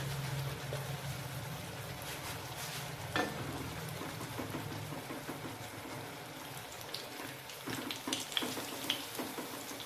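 Palm-fruit malpua batter fries in hot oil with a steady, dense sizzle and crackle, a few sharper pops rising near the middle and toward the end, with no voices.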